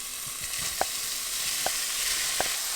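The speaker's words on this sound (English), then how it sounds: "you guys want that sizzle right when you add the soy curls" Soy curls frying in a very hot pan, making a steady loud sizzle with a few sharp crackling pops at intervals.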